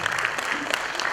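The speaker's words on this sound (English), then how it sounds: "a clap for the transportation team" School audience claps for the transportation team at an annual event, a brief, dense burst of many hands clapping with a voice faintly underneath.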